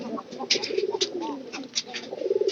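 Pigeons cooing close by, soft throaty rolling coos repeating over a low bed of faint chirps and background noise.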